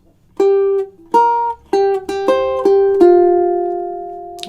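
A solo ukulele plucks the opening measure of the theme from Beverly Hills Cop, about eight clear picked notes in a syncopated rhythm, the last one ringing out and fading.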